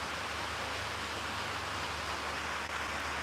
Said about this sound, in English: Can you hear the rain?